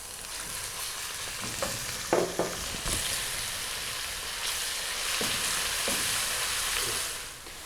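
Ginger garlic paste frying with browned onions in a pan for a Pakistani kadhi pakora, a steady loud sizzle with a few stirring scrapes and clinks, no voices.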